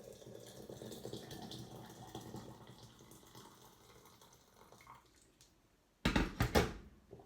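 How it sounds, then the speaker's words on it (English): Boiling water is poured from a kettle over a small handful of loose tea leaves, a soft steady trickle that fades out, followed by a brief louder splash near the end. "And then I've just got some boiling water."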